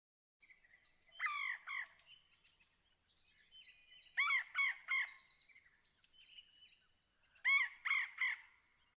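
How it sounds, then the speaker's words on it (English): A recorded gull-like bird call plays back in three clusters of harsh, gurgling cries, each a quick run of two or three notes, at moderate volume with quiet pauses between. "Let's listen to this bird call."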